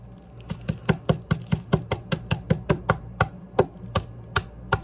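A steady series of sharp crunching knocks, about three per second, close and fairly loud, like peanuts being crushed by repeated blows.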